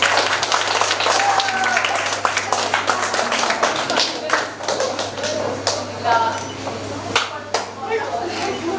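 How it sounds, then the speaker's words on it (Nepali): An audience at a children's talent show claps loudly with sharp, uneven hand claps that build and fade, and voices are heard alongside. "जोरदार ताली चाहिँ दिन नबिर्सनु."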